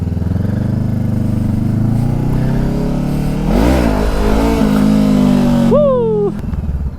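A very loud Mitsubishi Lancer engine idles with a heavy, throbbing rumble, then revs up sharply in a couple of rising blips before a high, whistling rev near the end.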